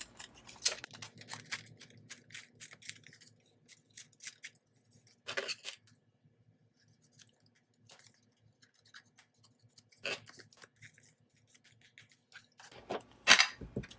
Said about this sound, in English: I think I'll just go ahead and tear it.